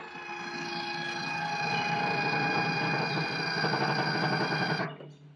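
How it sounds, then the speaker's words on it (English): A homemade electric actuator slides the spreader slide on a John Deere 2025R compact tractor's SS1023B spreader, giving a steady, loud mechanical whine that runs nearly five seconds before cutting off abruptly. "I fabricated an actuator to slide the slide in and out"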